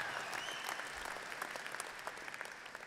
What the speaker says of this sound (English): It's okay to clap at that.